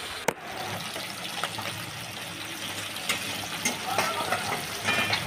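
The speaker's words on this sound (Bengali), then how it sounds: "সেই মাছটা এখন আমি তেলের মধ্যে এক এক করে দিয়ে দিলাম।" Pabda fish, washed and coated in turmeric, salt and raw oil, are placed one by one into hot oil in a Bengali home kitchen. A sharp click opens the clip, then a close, steady sizzle with scattered crackles and pops runs throughout.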